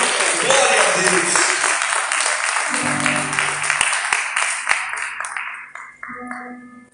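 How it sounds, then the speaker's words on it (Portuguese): A church congregation claps during an evening worship service, loud massed applause that thins into scattered individual claps, with a sustained musical tone and a few voices underneath. "Aplauda Jesus nessa noite."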